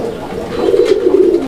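Pigeons at a pigeon sale coo in a steady, low rolling murmur close by for over a second before it cuts off abruptly.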